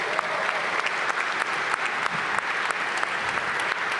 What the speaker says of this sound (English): a round of applause for your Washington Wizards on a game day